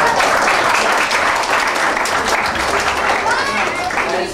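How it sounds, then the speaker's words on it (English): A crowd claps loudly and steadily at a community basketball event in El Paso, dense applause close by with voices calling out beneath it. "Clap your hands if this is the poster."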